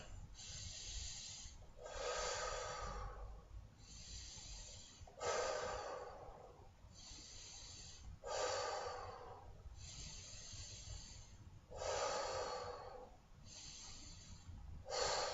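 Slow, deliberate breaths during yoga practice, with strong nasal exhales pushed out in a steady cycle of about seven, close and clear against quiet room tone.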